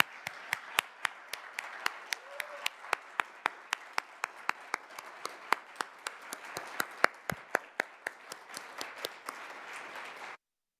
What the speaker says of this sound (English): Please join me in a round of applause for our Human Rights Commission and our Human Rights Office.